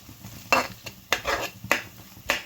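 Curry mixture stirred in a pan, a spoon scraping and sliding in four or five spaced strokes, close and fairly soft with a faint sizzle beneath.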